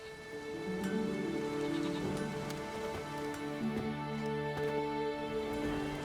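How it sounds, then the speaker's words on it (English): Rain in The Witcher 3: Wild Hunt, a steady patter of falling rain with droplets on surfaces beneath a sustained musical tone. "There's no point standing here in the rain."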